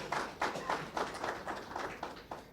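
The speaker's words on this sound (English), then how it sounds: "To your credit, give yourself a round of applause." Audience clapping at a committee meeting and annual report launch, a faint, sparse patter of hands with a few distinct rhythmic claps heard from a distance.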